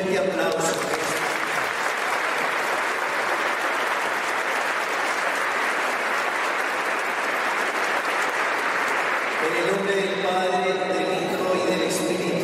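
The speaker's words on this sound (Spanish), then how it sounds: "Pido para los papás presentes un fuerte aplauso." A church congregation gives sustained applause for the fathers present, a broad wash of clapping for about ten seconds before it fades and a voice takes over.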